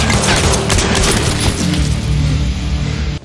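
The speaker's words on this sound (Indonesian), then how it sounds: "Sang penjahat terakhir berusaha menembaknya" Loud, dense bursts of gunfire crackle and boom through an action scene in a mafia film, a continuous barrage that holds strong before cutting off abruptly at the end.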